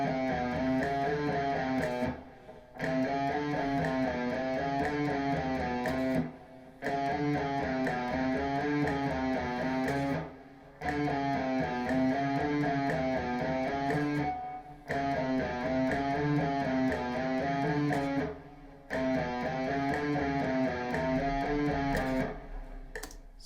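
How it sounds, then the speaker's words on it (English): Guitar alternate-picking exercise played to a metronome, fast even runs of picked notes in repeating phrases, each broken by a brief one-beat gap, loud and close with no talking. "I'm gonna play through this thing now to the metronome"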